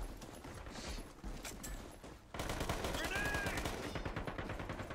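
Gunfire in the shooter game Metro Conflict: a dense, rapid crackle of automatic shots runs throughout, growing louder and more sustained halfway through.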